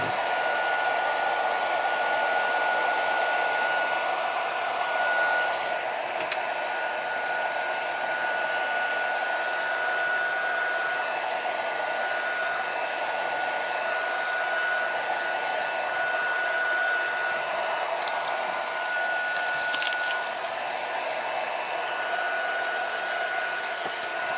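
A hair dryer blows steadily and loudly for about 24 seconds, a constant close-up whir with a slight shift in tone near the six-second mark and no voices.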